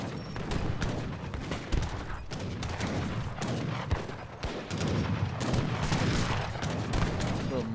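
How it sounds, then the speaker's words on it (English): Mortar and gunfire in a large team battle in the real-time strategy game Age of Empires III Definitive Edition, set on the Orinoco map: a dense, continuous battle din of overlapping shots and booms at steady mid loudness. "Little mortar right here."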